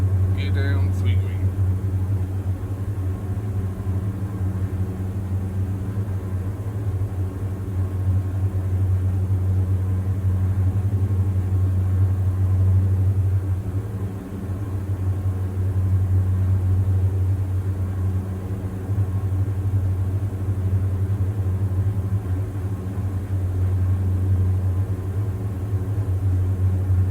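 Twin engines of a Diamond DA42 in a flight simulator hum at a steady, low, droning pitch throughout the approach, while a voice talks now and then over the constant engine noise.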